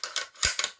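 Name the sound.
working the bolt of a Savage 110 Trail Hunter rifle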